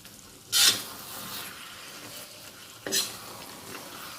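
Laing, taro leaves simmering in coconut milk, gets stirred in the pan: two scraping, sizzling stirring strokes about two seconds apart over a soft steady bubbling hiss, close and moderately loud.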